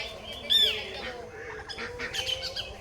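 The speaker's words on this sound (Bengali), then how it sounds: "একটি ফিঁয়ে পাখির ছানা উঠতে না পারার যন্ত্রণা" A drongo chick, fallen and unable to climb, gives one loud harsh squawking call close by, followed by a few fainter chirps.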